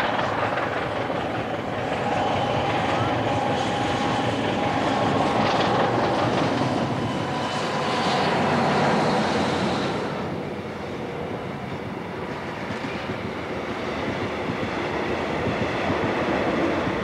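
A steam train runs on rails through the Karoo on the Kimberley line, a continuous rumbling roll with faint clatter that swells and eases over the span, with no talking.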